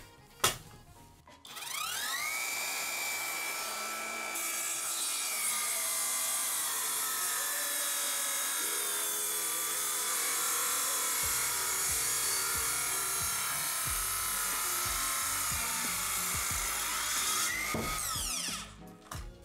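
A Chinese cordless circular saw bites into a thick, 50 mm wooden floor beam salvaged from old flooring, a near, sustained whining cut of about fifteen seconds with a rising spin-up at the start and a brief whine at the end.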